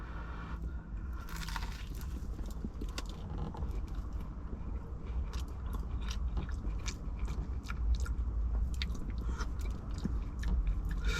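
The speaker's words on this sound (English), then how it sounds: "Let's go in for another bite." Someone bites into and chews a flaky, peppery pie with sweetened pastry, steady close-up crunching and wet mastication sounds continuing throughout with crisp crackles of pastry, no talking.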